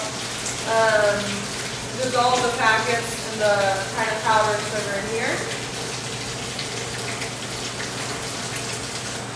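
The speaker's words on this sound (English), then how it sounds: "I'm going to go ahead and turn on my water so it can get hot" Hot tap water runs steadily into a bucket, a continuous soft hiss and splash underneath a person talking close by.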